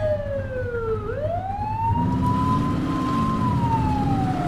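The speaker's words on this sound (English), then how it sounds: "You're only meant to use the siren in emergencies." Police car siren in The Precinct video game, a loud wail sweeping down and back up in pitch over a running vehicle engine, close and continuous with no talk.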